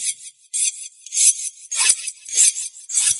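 Repeated rasping strokes of a blade drawn across a sharpener, about nine short scrapes in an uneven rhythm, close and clear.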